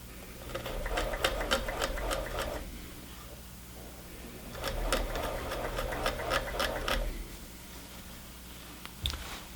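A home sewing machine stitches skirt seams in two steady, rapid bursts of close mechanical whirring, with a quiet pause between them and a brief click at the end.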